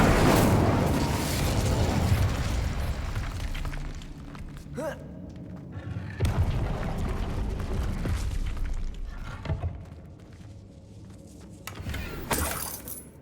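Incendio fire spell cast in a fantasy wizarding video game, a burst of roaring whoosh and crackle followed by several sharp impact thumps and flaring blasts amid battle noise.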